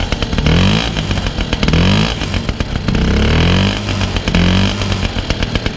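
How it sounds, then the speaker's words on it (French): Close-up revving of a 1985 Motobécane 51 V moped through its exhaust, a series of sharp rising blips that drop back to a busy two-stroke idle between them, loud and raspy with no talking. "je vais faire cracher un peu le pot"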